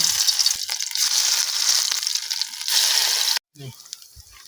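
Steady loud sizzling and crackling of fritters frying in hot oil in a wok, continuous for several seconds, then a brief cut and quieter clatter.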